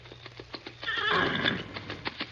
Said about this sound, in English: Man alive, what a horse.